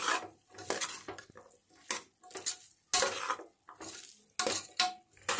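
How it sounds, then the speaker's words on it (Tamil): Raw jackfruit pieces are stirred in a pan, with repeated loud scraping and clattering of a spoon against metal in uneven bursts, close and separated by brief pauses, over a faint sizzle. "பலாக்காய் போட்டுட்டு இதை நல்லா பரட்டி விட்டுக்கோங்க."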